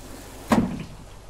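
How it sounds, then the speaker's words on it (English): A bus door shuts firmly with a single solid thud and a short rattling decay, heard alone against a quiet background. "seeing the driver smile as the door shut firmly behind me"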